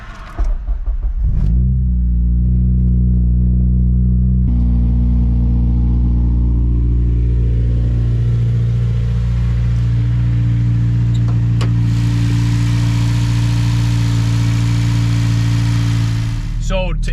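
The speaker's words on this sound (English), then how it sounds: "Let's go ahead and start the car, guys," A Honda K24 engine, swapped into a car, cranks briefly, catches, and settles into a loud, steady idle with a deep rumbling hum that continues close by.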